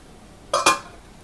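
A lid goes onto a pot of simmering dry fish curry, giving two quick metallic clinks in close succession, loud and near, with a brief ringing tail in an otherwise quiet kitchen.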